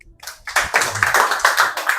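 A group of seventh-grade students in a maths classroom clap together after a classmate answers, a rapid burst of hand claps rising after a brief quiet start and continuing steadily near the listener.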